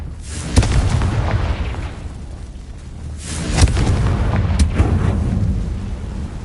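Confringo spell explosions in the video game Hogwarts Legacy: loud booming blasts with sharp cracks at the start and another surge midway, heavy rumbling in between, and no talking.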